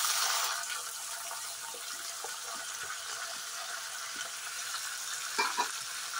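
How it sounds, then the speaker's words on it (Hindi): Garlic, chili, cumin and black pepper fry in a pan with a soft, continuous sizzle and a few light stirring taps, no voices over it. "और इसे लाल होने तक भूनूंगा।"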